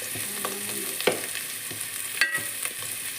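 Tomatoes sautéing in a pan, a soft continuous sizzle with intermittent stirring clicks and scrapes of a spoon against the pan, close and moderately loud.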